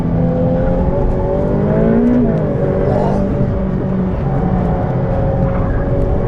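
A Ferrari F8 Tributo accelerating around a race circuit, its engine droning loud and continuous from inside the car, with rising and shifting harmonic pitch and a gear change midway.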